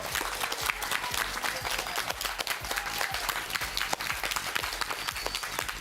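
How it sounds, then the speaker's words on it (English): Audience applause for a team coach at a quiz competition, a lively field of many individual claps, crisp and fairly close, sustained evenly throughout. "Let's give a big hand to your coach, Melinda Gall"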